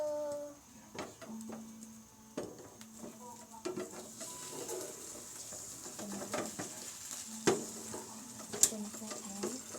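An egg frying in a pan gives a soft sizzle with stirring and scraping clicks of a utensil against the pan. A voice speaks briefly here and there over the cooking sounds.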